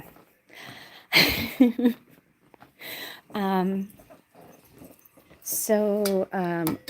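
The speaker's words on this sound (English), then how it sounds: "I've got an indignant puppy." An indignant puppy whimpers and yips in short, high, wavering bursts, close and fairly loud, alternating with someone talking.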